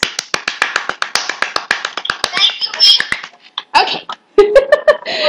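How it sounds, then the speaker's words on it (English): Students in a 4E class clap their hands in a string of close, crisp claps with an uneven rhythm, then the clapping breaks up into scattered hits mixed with voices and a little laughter. "Clap your hands again, guys."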